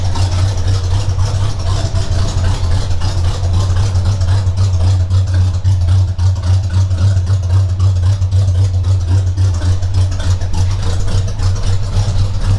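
A very cold car engine idles steadily after a throttle jab, a loud, continuous low rumble close by with no talk over it.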